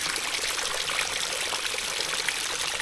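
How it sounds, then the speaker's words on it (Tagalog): Water from a creek runs steadily beside a rural hut in the morning, a continuous close rushing and trickling with no pauses and no voices. "Yung tubig galing sa aming sapa."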